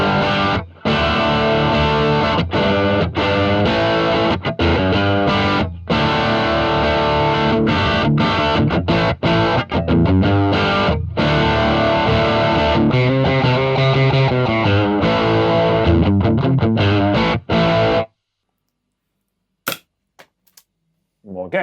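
An electric guitar driven through an OXR distortion pedal plays thick, saturated chords and riffs in a shop setting, loud and sustained for about eighteen seconds before cutting to near silence.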